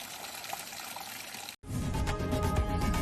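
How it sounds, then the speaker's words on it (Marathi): Heavy rain in Vasai Virar pours down as a dense, steady hiss that cuts out for a moment and then comes back fuller and louder, with no voices. "वसई विरारमध्ये देखील दमदार पाऊस।"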